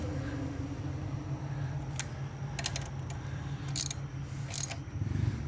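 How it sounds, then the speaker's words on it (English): A 1/4 inch ratchet snugs small bolts into aluminum on a 2013 Hyundai Sonata 2.4L GDI high pressure fuel pump, giving a few quick clicking bursts over a steady background hum. "I'm going to just snug these down with a 1/4 inch ratchet."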